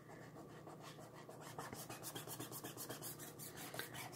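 Fingers rub over a chalk transfer laid on a wooden sign, making a soft, close, dry scraping and rasping with quick repeated strokes, faint and steady.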